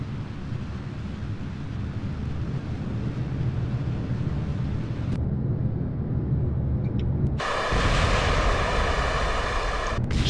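Rocket engine thrust in the video game Kerbal Space Program, a loud continuous roaring rumble that shifts abruptly in tone partway through as stages change, steady and close with no talking.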